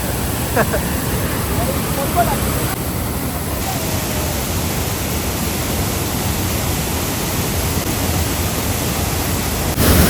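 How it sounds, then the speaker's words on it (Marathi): At a hidden waterfall, water crashes down hard in a loud, unbroken roar that fills everything, steady from start to end. "एवढ्या जोरात पाणी टाकलं जाम जोरात आपटतो"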